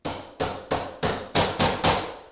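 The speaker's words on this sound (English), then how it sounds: "then you can just start to gently hammer that into position" Laminate flooring planks being gently hammered into position on a floor, six sharp, evenly spaced knocks, close and loud, with no voices.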